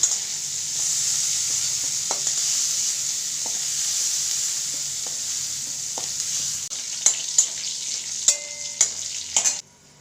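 Prawns frying in mustard oil in a home kitchen, a continuous bright sizzle with scattered spatula scrapes, ending in a few sharp utensil clinks.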